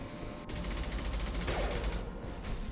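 Gunfire in the video game Mass Effect 2: a rapid, continuous burst of automatic fire that runs for about two seconds, loud and dense, preceded by a brief lead-in and fading into a short tail.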